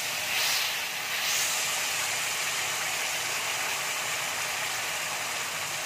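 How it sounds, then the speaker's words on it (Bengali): Spices hit hot oil in a pan with bay leaves and browned sugar, giving a loud, continuous hiss that swells briefly at the start and then holds steady, close by with no talk. "এবার আমি মশলাটা দিয়ে দিচ্ছি।"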